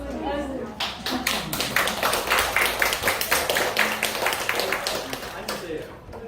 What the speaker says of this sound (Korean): 이거 상당히 박수 한번 쳐주세요.